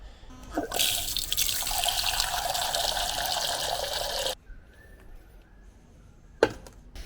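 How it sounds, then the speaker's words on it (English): Water gushes steadily from a tap into a container for about four seconds, then stops, leaving quiet with a brief clunk near the end. "just got to get some water, fill this up."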